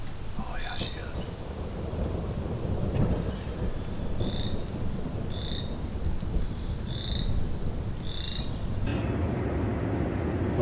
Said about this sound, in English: storm blew in, started downpouring on us at the absolute worst time